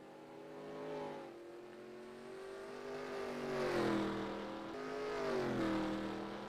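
NASCAR Next Gen Cup race cars circling New Hampshire in a racing video game, a sustained engine drone that rises and falls in pitch as cars sweep past, moderately loud with no talk.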